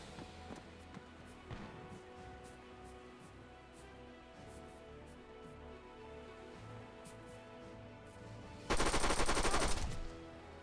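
P90 submachine gun fire in the TSB Citizens Rise Up game: a loud sustained burst near the end after scattered faint shots and game ambience.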